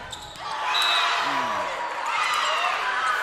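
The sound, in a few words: volleyball crowd reacting against a referee's call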